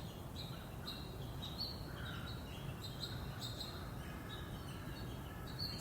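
Birds chirping and calling at a distance in an outdoor field recording, with a steady low rumble of road traffic underneath throughout.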